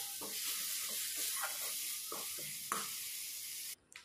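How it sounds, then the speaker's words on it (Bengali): Ground cumin, coriander and turmeric fry in a pan for a katla fish curry, giving a steady hiss with soft scraping stirs throughout, ending in a brief drop to quiet. "ঠিক একইভাবে মশলাটাকে আবারও ভালো করে কষিয়ে নিতে হবে"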